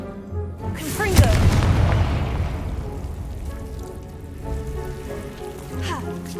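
Confringo fire spell explosion in the Hogwarts Legacy video game: a single deep booming blast that rolls into a rumbling, crackling tail fading slowly over several seconds.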